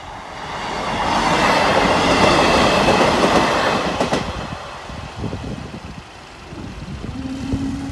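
A Class 950 train passes Boultham level crossing, a broad, steady rumble that builds, holds loud for several seconds, then eases away, with fainter rail noise and a brief tonal squeal near the end. No voices.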